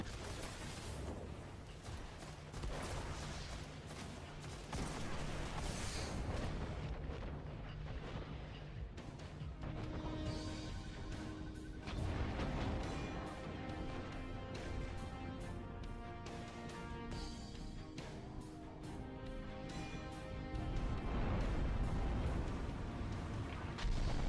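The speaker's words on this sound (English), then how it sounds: "You hear the Guardian music whenever you attack Crota." Crota boss fight music from the video game Destiny, a dense, loud orchestral score with steady sustained tones and rhythmic pulses, building in intensity over about twenty-four seconds with no voices.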